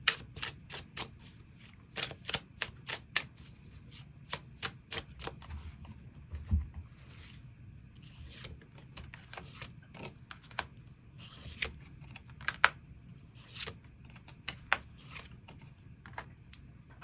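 Tarot cards being shuffled and drawn, heard as a quiet run of crisp flicks, riffles and light taps that come in irregular bursts, with no one talking.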